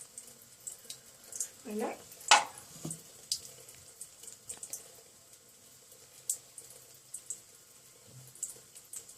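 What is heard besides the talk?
rubbing soap on fingers under running tap water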